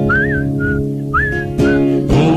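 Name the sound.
whistling in a song, imitating a canary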